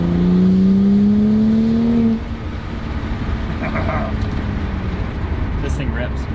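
A modified BMW 135i in sport mode roars loudly with a rising rev for about two seconds, then settles into a steady engine drone with scattered crackles and pops from the exhaust.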